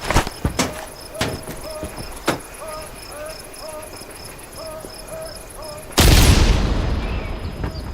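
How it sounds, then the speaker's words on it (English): A grenade blast in Hell Let Loose Vietnam: a sudden loud, close explosion roars in and decays slowly. Before it come a few sharp gunshot-like cracks over a steady chirping insect ambience. "Grenades are a powerful explosive item"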